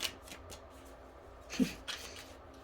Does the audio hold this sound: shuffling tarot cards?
yes